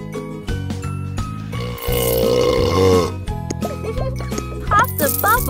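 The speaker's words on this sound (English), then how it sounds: "Help Lou burp." A cartoon panda cub burps loudly in the kids' pet-care game Panda Lu Bear Care, a long drawn-out belch between bright jingling game chimes and music.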